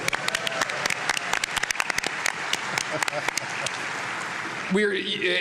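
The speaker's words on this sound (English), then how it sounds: "Round of applause for my son, Ben." Applause from a PAX West 2024 audience at a Civilization VII developer panel, crisp scattered claps over a crowd murmur, with a child crying near the end.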